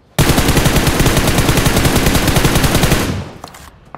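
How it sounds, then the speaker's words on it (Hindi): Rapid automatic gunfire in the mobile battle royale game BGMI, a loud, dense burst of shots that runs for about three seconds, then cuts off and trails into a fading tail with a few faint sounds. "तो गैस यहाँ पे पीछे से फायरिंग आती है"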